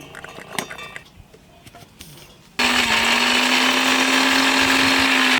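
Kitchen blender grinding garlic into paste starts abruptly partway through, a loud, steady whirring motor drone that continues to the end, after some quieter clinks and handling noises.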